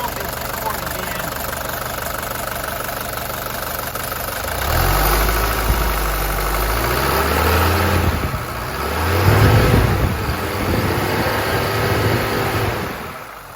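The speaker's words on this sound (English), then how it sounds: "That's the sound of a healthy 240D engine." A 1983 Mercedes 240D with the OM617 diesel settles into a loud, close idle partway through, its low rough clatter swelling and easing slightly after a quieter opening.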